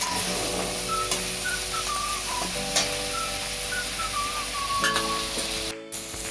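Onion and tomato with a pinch of salt sautéing in a pan for egg fried rice, a steady close sizzle throughout with occasional light clinks of a spoon against the pan, no talking.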